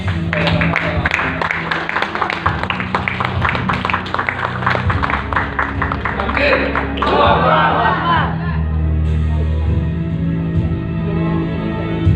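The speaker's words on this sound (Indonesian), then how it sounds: "Tepuk tangan" A seminar audience gives a round of applause as a speaker is called up, continuous crowd clapping and murmur lasting several seconds with a tonal hum underneath, fairly loud and close.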